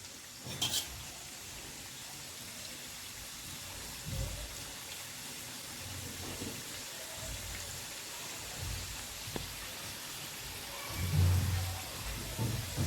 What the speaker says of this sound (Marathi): असे पाच पाच करून आपल्याला ते तळून घ्यायचे आहेत